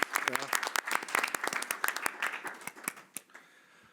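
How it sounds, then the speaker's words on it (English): An audience applauding a panel at a World Health Assembly side event on dengue fever, a dense patter of clapping from many hands that thins out and fades toward the end. "a round of applause for the panel and for the audience"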